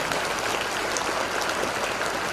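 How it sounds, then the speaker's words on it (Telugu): Steady applause from an audience at a political gathering in Siddipet, dense and continuous clapping throughout with no break, heard at moderate distance. "ఆ అమ్మాయికి మరొకసారి గట్టిగా క్లాప్స్ కొట్టండి"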